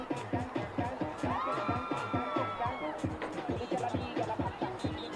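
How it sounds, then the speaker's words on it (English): Spectators at a women's college soccer match cheering and shouting after a goal, a lively crowd of voices with whoops behind rhythmic thumping and a close talker. "a lot of celebration going on behind me after that goal for Vanessa Lima"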